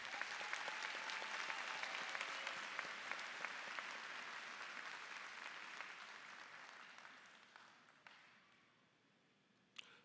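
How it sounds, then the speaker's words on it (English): A crowd at a high school graduation ceremony applauds the graduating students with steady, dense clapping that fades gradually over ten seconds, ending with a few scattered claps. "Let's give these students a big hand of applause."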